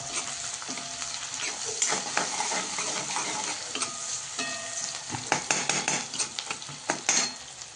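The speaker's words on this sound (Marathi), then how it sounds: "आणि चांगले आता आहे ना सर्व भाज्या आहे ना मिक्स करून परतवून घ्यायचे चांगल्या." Vegetables stir-fried in butter and oil for schezwan fried rice, a loud steady sizzle with repeated scraping and clinking of a spoon against the pan, no voices.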